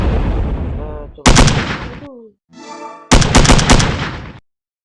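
Gunfire in a mobile shooting video game, loud bursts of rapid shots in two clusters separated by a short pause with tonal game effects, ending abruptly.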